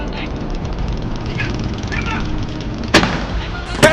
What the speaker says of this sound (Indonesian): Tank BMP 3F segera melepaskan tembakan pengejaran.